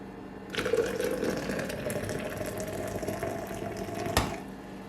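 Hot water pours steadily over dandelion root coffee grounds, a continuous splashing trickle for about four seconds that begins abruptly and ends with a small clink, heard close and alone.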